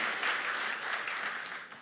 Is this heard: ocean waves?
no